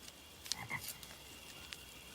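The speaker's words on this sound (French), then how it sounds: "Une grenouille." A frog croaks a few times in short bursts, fairly close and clear against a hissing background of night ambience, with no one speaking.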